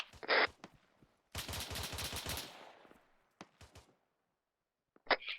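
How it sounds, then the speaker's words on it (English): Gunfire in the video game Arma 3: a sharp single shot, then a rapid automatic burst with a fading tail, followed by a few isolated distant cracks and another late shot. "Are we taking incoming rounds?"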